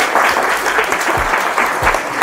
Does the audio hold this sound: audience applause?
yes